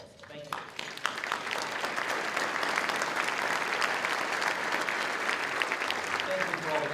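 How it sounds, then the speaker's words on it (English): Sustained round of applause from a roundtable audience for Akron City Council members, dense steady clapping from a large crowd lasting several seconds, moderately distant with a few voices underneath. "Let me ask your members of Akron City Council to please stand to a round of applause."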